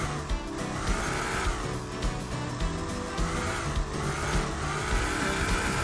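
A car drives through a pizza delivery horror video game set in hell, its engine a steady, loud hum with repeated revving surges throughout.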